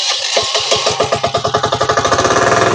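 Diesel engine of a back rotor farm machine cranking and firing up, settling into a steady, rapid chugging rhythm, loud and close, with no voices.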